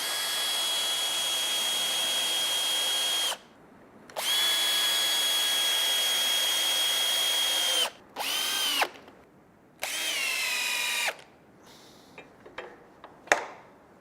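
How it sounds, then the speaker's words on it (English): Power drill driving screws to fix MIM clip plates onto a fence, several close, loud whirring bursts of a few seconds each with short pauses between, ending in shorter clicks and brief spins. "Now we're going to screw these plates in securely in place."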